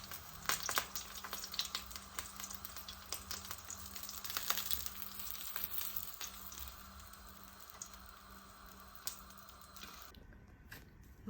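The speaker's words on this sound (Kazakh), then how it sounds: "осылай екі жақ бетін аунатып, бөректерімізді қуырып аламыз" Rolled cigara borek pastries crackling in a pan of hot oil, a soft, steady sizzle dotted with small pops that runs for about ten seconds before dropping away abruptly.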